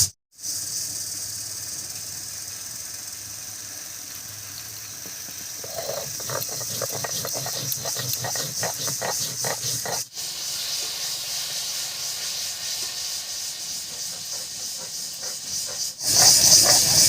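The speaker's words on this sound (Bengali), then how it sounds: "আমি গোবিন্দ চালটা বেটে নিচ্ছি" Gobindobhog rice being ground into a paste in an electric grinder gives a steady, loud whirring hiss for most of the stretch, with a brief pause near the middle and a sharper burst at the very end.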